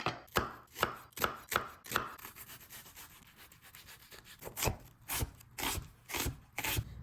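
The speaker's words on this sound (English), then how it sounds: "here I'm just gonna mince half of a small yellow onion" A knife chopping and mincing half of a small yellow onion on a board, loud close rhythmic chops in quick bursts with a softer scraping pause midway, no talking.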